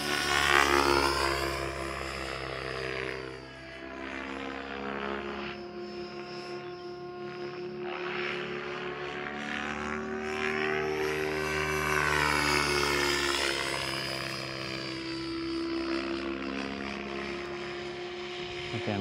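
A radio-controlled model airplane flies stall turns and aerobatics, its propeller engine whining continuously and sweeping up and down in pitch as it climbs and turns, a loud, steady drone throughout.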